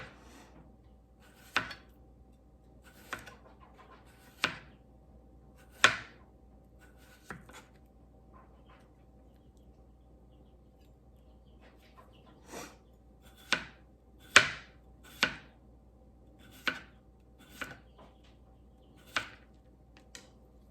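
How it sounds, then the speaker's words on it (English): A knife slicing a cucumber thinly on a cutting board, a dozen or so sharp crisp taps spaced unevenly apart, close and clear against a quiet background with no talking. "slice your cucumber as thin as you can. Not overly thin, but not chunky either."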